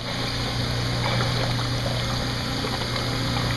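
Water in a vertical egg incubation tray system flows under the tray and gently upwells through the eggs, a steady, continuous trickling rush with a faint pump hum and no talking.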